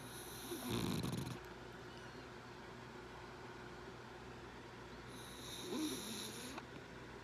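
A dog snores in the middle of the night, with two drawn-out, low, rasping snores several seconds apart, heard close but faint against a hushed room hum.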